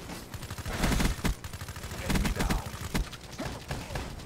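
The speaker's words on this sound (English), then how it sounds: "This guy is shooting me with some crazy pistol and it's weirding me out." Rapid pistol fire in a Call of Duty multiplayer match, bursts of sharp shots spread across a few seconds and mixed with other game noise, with a player talking over it.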